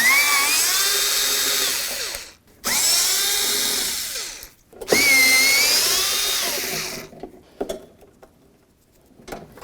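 A power drill backs screws out of a 1988-2002 GMC Sierra 1500 door, with three loud whirring runs whose pitch rises and falls, short pauses between them, then faint clicks and handling noise.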